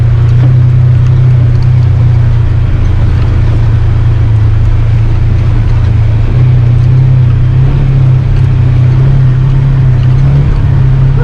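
A Polaris off-road vehicle pushes through water in Talkeetna, Alaska in autumn, its engine a steady loud drone with a constant low hum and broad churning noise throughout, no voices.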